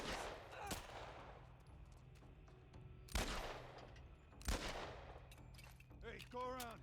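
Video game gunfire rattles out in sharp bursts, with two loud distinct shots standing out over a busy background and a voice speaking briefly near the end.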